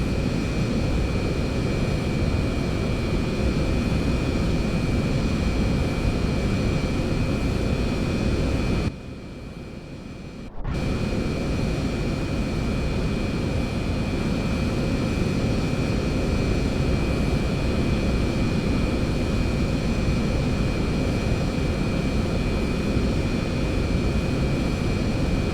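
A Beechjet Hawker 400 business jet's engines hum in the Flight Unlimited 3 game, a steady loud whine and roar held on the runway with a constant high tone, broken by a brief drop of about two seconds.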